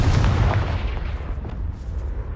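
A Confringo blast spell from Hogwarts Legacy erupts as a loud, close, booming explosion, its heavy low rumble fading away over two seconds.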